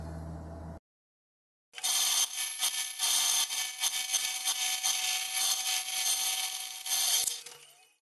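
A homemade scroll saw driven through a large lathe-turned, speed-reducing pulley cuts steadily. After a brief low hum and a pause, a loud, close rasping buzz runs for several seconds before tapering off.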